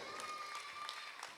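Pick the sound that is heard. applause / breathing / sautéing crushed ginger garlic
applause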